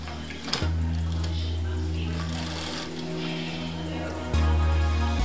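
A Singer 128 sewing machine stitching fabric, giving a steady low mechanical hum and rattle that runs continuously and grows slightly louder near the end.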